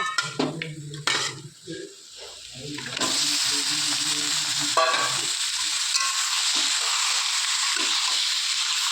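Chicken being stirred into browned fried spices in a pan for chicken rezala: after a few scrapes and clatters, a loud, steady sizzle rises and continues, with occasional stirring knocks and no talking.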